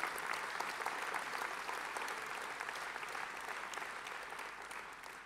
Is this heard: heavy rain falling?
no